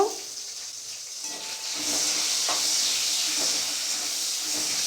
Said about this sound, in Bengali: তখন আমি এর মধ্যে দিয়ে দেব কেটে রাখা টমেটোগুলো দিয়ে দেব